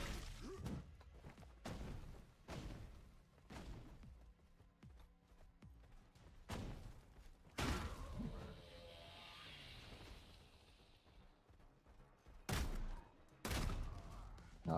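Grenade explosions and gunfire in the shooter game Active Matter: a scatter of loud thumping shots and blasts, one bigger boom with a rumbling, ringing tail in the middle, then more bursts near the end.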